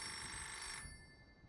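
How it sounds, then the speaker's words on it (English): Loud electronic telephone bell rings steadily in a 1985-set roleplay video game, then cuts off abruptly, leaving only faint low background noise. "Oh, that's a rather loud phone"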